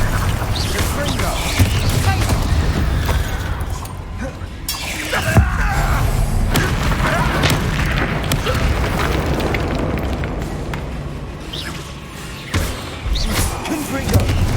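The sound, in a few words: Confringo and Bombarda spell explosions, Hogwarts Legacy video game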